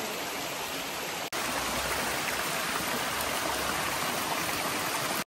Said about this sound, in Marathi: इथे पाणी सुद्धा आहे. तुम्ही इथे पाणी पिऊ शकता आणि खूप स्वच्छ पाणी आहे.